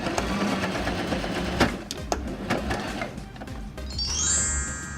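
A sewing machine stitches a piece of elastic together on a t-shirt, a steady close mechanical whirr with a few sharp clicks and a brief higher whine near the end, no talking.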